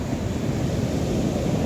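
Strong ocean waves break on a clean, white-sand beach as a continuous loud roar of surf. The sound is mixed with wind rumble on the microphone, and no one speaks.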